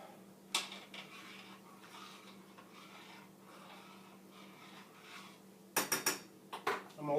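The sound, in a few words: stirring taco filling in a pot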